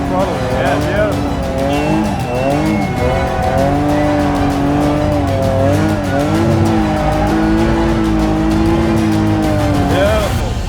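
A car spins donuts with a long, loud squeal from its tires. Wavering high tones rise and fall over a steady engine drone the whole time, and voices can be heard in the background.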